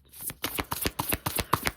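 Tarot cards shuffled by hand in a quick series of crisp riffling bursts and soft taps, close and clear with no talking.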